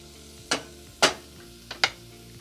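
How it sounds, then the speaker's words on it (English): Leeks cook in a pan on low heat, with three or four short, sharp scraping stirs standing out over a soft, steady background, close and fairly loud, with no voices. "cooking leeks do smell good"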